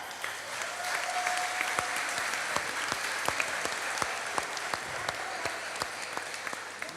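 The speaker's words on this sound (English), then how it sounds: "no, feel free to clap." An audience at a stand-up comedy show during the Ashanti Festival claps steadily for about seven seconds, a dense wash of hands with a few sharper nearby claps standing out.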